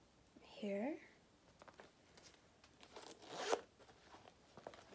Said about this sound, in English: Nice zipper pocket.